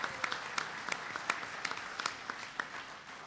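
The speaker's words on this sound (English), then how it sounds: "give him a round of applause" An audience at a Tribal Nations Conference on economic development and energy gives a steady round of applause, with dense clapping throughout.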